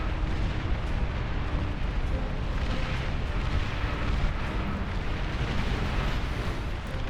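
A nuclear blast in the real-time strategy game Beyond All Reason tears a chunk out of the map, a loud, sustained roar of broadband rumble and crackle that holds steady throughout with no talk over it.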